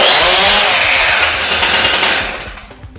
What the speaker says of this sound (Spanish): solo falta confirmar que la motosierra arranca.